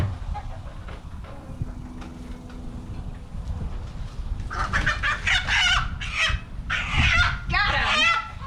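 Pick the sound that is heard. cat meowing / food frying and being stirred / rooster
rooster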